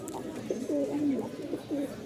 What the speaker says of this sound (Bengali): এই হচ্ছে 2 জোড়া কবুতর